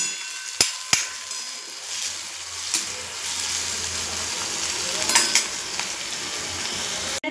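Tomato and onion sauté in oil for a field-bean usal, a soft, steady sizzle broken by a few sharp utensil knocks against the pan near the start, with no speech.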